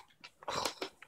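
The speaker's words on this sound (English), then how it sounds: "Good dog." A dog gives a few short, soft whimpering or yelping sounds in quick succession, close by, with no talking over them.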